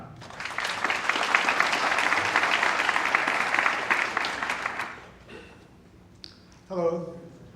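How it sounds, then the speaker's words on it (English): A conference crowd breaks into sustained clapping for several seconds, dense and bright, then fades as a single voice begins speaking near the end. "All right, big round of applause for Hakan."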